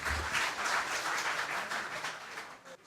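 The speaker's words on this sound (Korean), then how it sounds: "큰 박수로 환영해 주시기 바랍니다" A seminar audience at a Korean policy event on plasma technology claps in welcome of a research institute vice-director taking the stage. The applause is soft and distant, a steady patter that fades near the end.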